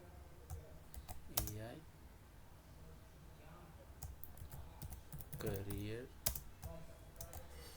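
Code is typed on a computer keyboard in quick, light clicking bursts, close and quiet, with someone speaking briefly twice over the keys.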